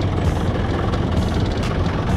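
A Philippine jeepney's engine rumbles heavily from inside during a ride, a loud, low, continuous drone with rattling vibration and no voices.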